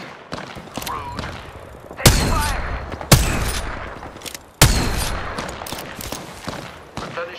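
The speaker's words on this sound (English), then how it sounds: "Being shot at." Apex Legends gunfire hammers in close, with heavy impact thuds at irregular intervals over a steady backdrop of rattling shots.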